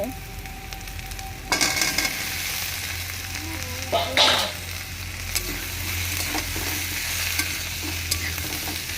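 Potatoes go into hot oil and fry with a loud, close sizzle, broken by bursts of scraping and clattering as they are stirred in the pan; there is no talking.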